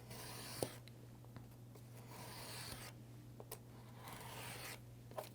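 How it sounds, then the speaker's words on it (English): A fresh craft knife blade slices through paper in close, soft scratching strokes with a few sharper ticks, over a steady low hum in the room. "you can definitely tell when you're cutting paper that when there's a new blade in there."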